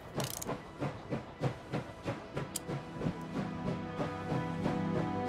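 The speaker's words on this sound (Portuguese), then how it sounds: "Vamos dar partida com o trem aqui." A steam train in the game Last Train Home starts to move, its rhythmic chuffing and hissing beats picking up pace into a steady rolling clatter, loud and close with no talk.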